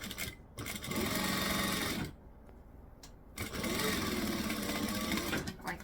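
A sewing machine runs in two steady bursts, stitching the side of a utility belt to tack it down. Each run lasts about a second, loud and close, with a short pause between the two.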